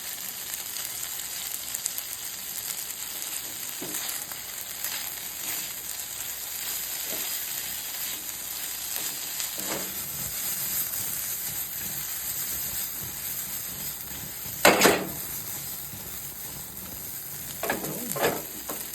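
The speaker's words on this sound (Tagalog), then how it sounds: "Tatapin po natin yung sibuyas para maluto ng konti." Onions fry in a pan for a meat-free tapa, a steady soft sizzle throughout with occasional stirring scrapes and a couple of louder clatters near the end.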